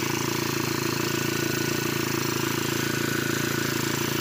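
A Ford Territory engine runs noisily and shakes, giving a steady, continuous mechanical drone with a constant rumble that stays close and even throughout, with no talk over it.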